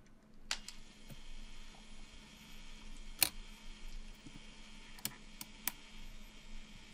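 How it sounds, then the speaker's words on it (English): A Canon EF film camera's self-timer runs very quietly, a faint steady whir with a few soft clicks scattered across it, close by and otherwise alone in a still room. "Very quiet self timer as well."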